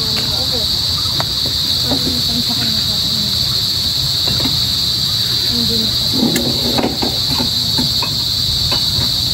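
Crickets chirp in a continuous high, shrill drone outdoors at a shrimp pond, with a few faint scattered knocks and rustles underneath.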